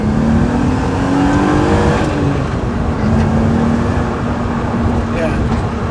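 A supercharged BMW E39 530i with an ESS kit drives along with a loud, steady engine drone and a faint whirr, while voices talk over it.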